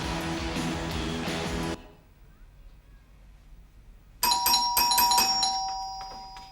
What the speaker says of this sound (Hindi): घंटी बजा रहे हैं, घंटी बजा रहे हैं।